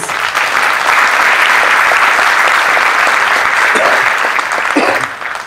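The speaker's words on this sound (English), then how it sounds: "So I'd like you all to give a warm round of applause to our panel members." An audience gives panel members a warm round of applause at the close of an evening event, loud sustained clapping from a full room that carries on steadily before tapering off.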